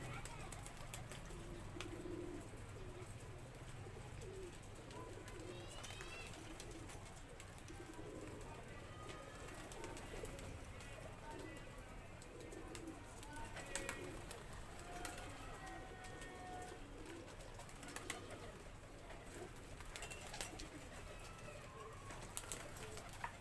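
Pigeons coo in low, repeated throaty calls over a steady outdoor hum, some calls nearer than others, with talk at times in the background.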